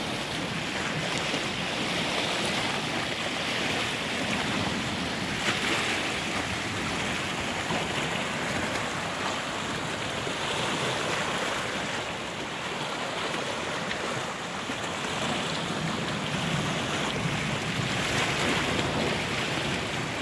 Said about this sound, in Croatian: Evo tsunami na Čikatu. Riva ispred Alhambre kompletno poplavljena.